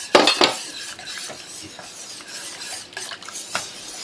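Utensil stirring a milk mixture in a pan while making cheese croquettes, continuous close scraping and rasping against the metal with a couple of sharper clinks near the start, no voices.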